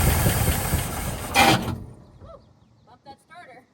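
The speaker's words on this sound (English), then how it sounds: "Just idle it." A 1959 Cadillac engine that had sat unused for years runs loud and rough at idle for under two seconds, then cuts out, leaving near silence broken by voices talking.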